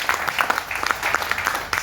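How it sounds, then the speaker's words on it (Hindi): An audience at a sales presentation gives a short burst of scattered clapping, individual claps distinct and moderately loud against the room. "एक बार ताली बजा लीजिए"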